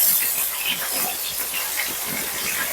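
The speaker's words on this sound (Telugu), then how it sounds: "ఆయిల్ కొద్ది వేడెక్కిన తర్వాత కొద్ది కరివేపాకు రెమ్మలు వేసుకొని పచ్చగా గ్రైండ్ చేసుకున్న ఉల్లిపాయ పేస్ట్ని కూడా వేసుకుందాం" Onion paste and curry leaves sizzle in hot oil for fish curry, a continuous close, crackling hiss with no voices.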